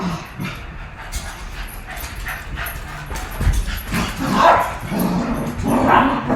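Several dogs barking, yipping and whimpering on a freezing winter day, an agitated scuffle that builds in loudness with clustered barks near the end.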